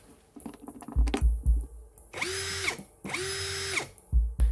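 OSUKA cordless drill with 65 Nm maximum torque, drilling into thick wood; two sustained whirring runs, each with a rising spin-up and steady pitch, separated by short clicks and handling knocks, close and loud.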